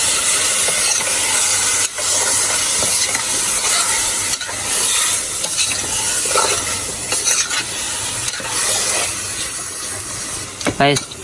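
Meat is stirred in a hot pan for a curry, giving loud, continuous close sizzling and hissing broken by steady scraping stirs throughout.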